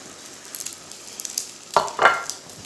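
A Spanish tortilla cooking in a pan after being flipped, giving a soft sizzle with a couple of brief clattering bursts near the end, close and fairly quiet.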